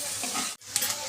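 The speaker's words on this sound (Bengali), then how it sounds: "পেঁয়াজটা ভাজা ভাজা হয়ে এসেছে" Onions fry in a pan with a close, steady sizzle and stirring scrape, broken by a brief pause midway before the crackling resumes, with no talking.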